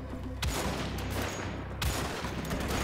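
Gunfire in the video game Wolfenstein: The Old Blood, with two loud, sharp bursts of shots standing out over a dense, constant layer of game noise.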